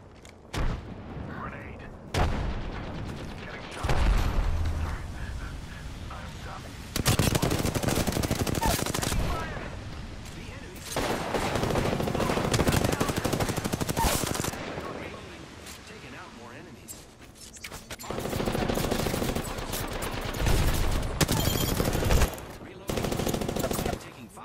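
Weapons fire in the video game Apex Legends, with sustained bursts of automatic gunfire alternating with quieter lulls over a long stretch. Voices are heard during the firing.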